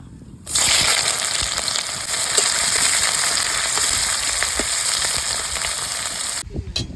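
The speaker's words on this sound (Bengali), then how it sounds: "এবার আমি সর্ষের তেলটা দিয়ে পেঁয়াজ লঙ্কা দিয়ে ভেজে নেবো" Onions and chillies hit hot mustard oil in a pan with a sudden loud sizzle, which keeps up as steady crackling frying for several seconds before cutting off abruptly.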